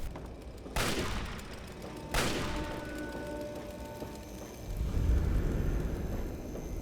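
Gunfire from nearby enemies in Fallout 3, with two sharp loud shots about a second apart and then a deeper rumbling burst, heard against a steady background with no talking.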